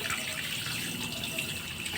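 Tap water runs into a kitchen sink while dorado fish are washed, a continuous close splashing gush with no voices.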